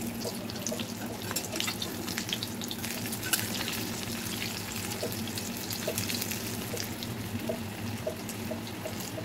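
Stuffed ash gourd fritters fry gently in oil over low heat, giving a soft, even bubbling sizzle at close range with occasional light pops and no voices.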